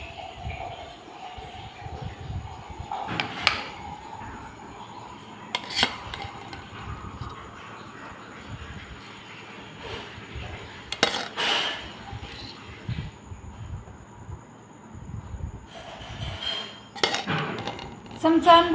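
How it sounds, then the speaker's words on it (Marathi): Rice khichdi is served onto a plate with scattered metallic clinks and scrapes of a spoon against dishes, spaced apart over a quiet room with faint voices between. "आता मी प्लेटमध्ये काढते खिचडी।"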